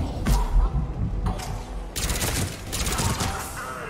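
Rapid gunfire in the sci-fi shooter Mass Effect 3 during a fight with Cerberus troops at a checkpoint, dense overlapping shots and thuds in loud clustered bursts, close and continuous.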